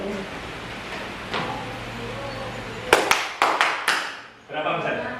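Sharp hand claps in a classroom counting game, a few loud separate claps in quick succession after a stretch of background murmur, then a voice resumes.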